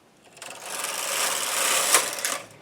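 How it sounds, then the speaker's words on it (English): A knitting machine fitted with a ribber carriage runs across a row, a smooth mechanical whirring swell that builds, holds steady with a brief clack near the end, then fades, heard alone. "And then I'm going to knit that first row."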